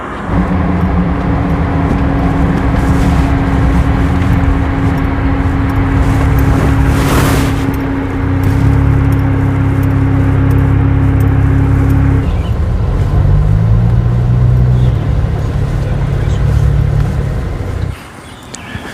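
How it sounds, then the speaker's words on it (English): A Jeep driving along a road, heard from inside as a loud, steady engine drone and road rumble with gear changes, easing off near the end. "we're gonna go ahead and get back in the Jeep and we're gonna go up the road"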